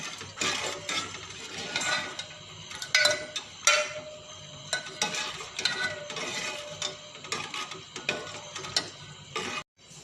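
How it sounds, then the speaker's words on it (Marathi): Chicken soup with coconut milk stirred steadily in a metal pot, a rapid train of scraping, ratchet-like clicks and clinks from the spoon, close up and unbroken apart from a brief pause near the end. "थोडीशी बाप येईपर्यंत त्याला आपण एकसारी हलवत राहायचं"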